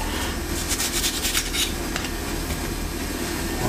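A knife slicing through a bell pepper to trim away the white parts for Tunisian méchouia salad, giving close, crisp rasping strokes over a loud, noisy background.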